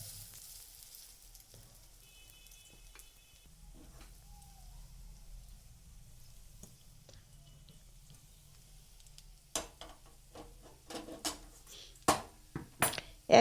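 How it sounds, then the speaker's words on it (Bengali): Lentil and cauliflower fritters fry in oil with a faint, steady sizzle, followed near the end by louder clinks and scrapes of utensils against the pan. "ডাল আর ফুলকপির বড়াগুলোকে আমি ভেজে নেব"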